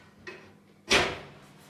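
A pizza oven door closes with a solid thud after a small click, a single near shut in a quiet room.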